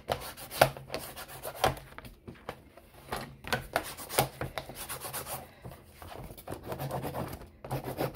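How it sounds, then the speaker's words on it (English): Tape being burnished onto a page of a Little Golden Book junk journal, a series of soft, close rubbing strokes in an irregular rhythm, quiet with no talking. "burnish this tape"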